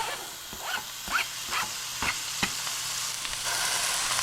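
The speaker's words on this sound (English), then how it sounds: "In goes the beef, the peppers and the onions" Ground beef with peppers and onions frying in a pan for taco nacho supreme, a steady close sizzle broken by several sharp scraping stir strokes, with no talk.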